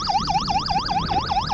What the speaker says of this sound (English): Bought the siren on Amazon for 12 quid.